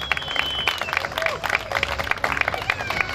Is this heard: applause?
yes